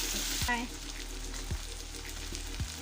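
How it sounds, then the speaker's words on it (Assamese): Fish frying in a pan with five-spice seeds and onion, a steady close sizzle throughout with a few low knocks of utensils against the pan. "মাছখিনি কমকৈ ফ্ৰাই কৰি লৈছোঁ, আৰু এইফালে মই কেইটামান পাঁচফোৰণ দি দিছোঁ, পিঁয়াজ দিছোঁ"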